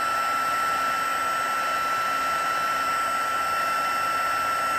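A heat embossing tool melts copper embossing powder on a Stampin' Up! card panel, giving a steady, close blower whoosh with a thin whine that holds level and unbroken throughout.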